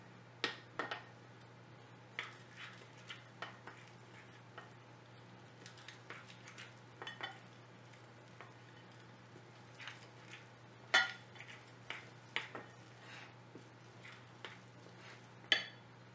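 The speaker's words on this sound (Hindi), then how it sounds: "अच्छी तरह से सारे बेसन को मिक्स कर दें" Gram flour batter for potato pakoras being stirred in a bowl, faint soft wet patting and scattered light clinks of spoon against the bowl, irregular and quiet over a low steady hum.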